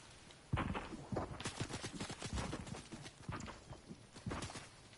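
Faint, distant gunfire in the video game Fortnite: a rapid run of sharp shots in uneven clusters, quiet and steady for several seconds.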